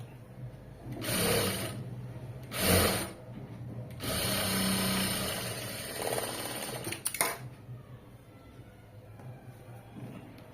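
Sewing machine stitching fabric in bursts: two short runs near the start, then a longer sustained stretch of stitching with a brief spurt near the end, close and fairly loud.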